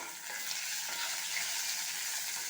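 Onion, green chilli and curry leaves frying in oil for samba wheat rava upma, a steady close sizzle with soft stirring and no pauses.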